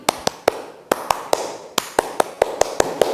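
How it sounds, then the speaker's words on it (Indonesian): One teacher claps her hands close by in a crisp rhythmic pattern, two groups of three sharp claps followed by a faster run of seven, with nothing else heard. "Kalau Ibu bilang selamat pagi, berarti kalian tepuk tangannya begini."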